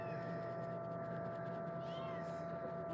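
Young kittens meowing in a playroom, a few thin, high mews rising over a steady background hum.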